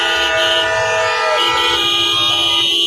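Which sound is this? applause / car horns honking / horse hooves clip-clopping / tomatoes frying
car horns honking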